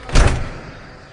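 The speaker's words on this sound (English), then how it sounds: "Quick, Linda Barker, put down your chocolates and help me keep this door closed!" A refrigerator door slams shut with one heavy thud, followed by a short fading rattle and quiet room tone.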